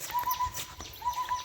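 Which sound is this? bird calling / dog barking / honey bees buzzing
bird calling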